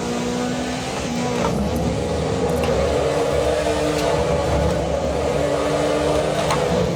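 Car engine in the Assetto Corsa EVO racing game holds a steady droning rev while drifting, with small pitch dips and rises as the throttle shifts, loud and continuous with no talk.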